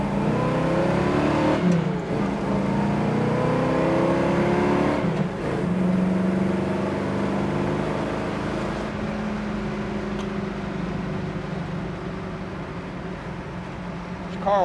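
A 1968 Chevrolet Camaro SS accelerating hard, its engine roaring and revving up through gear shifts, loud and close, easing to a steadier drone, with a driver speaking at times.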